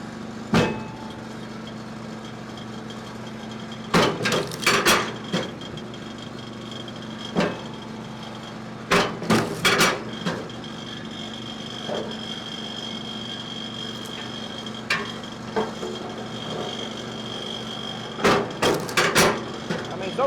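A MechMaxx 34-ton kinetic log splitter runs at about a third of the throttle on firewood, with a steady engine drone broken by loud clusters of metallic clanks and rattles as logs split. Someone talks at times.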